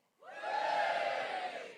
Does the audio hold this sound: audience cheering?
yes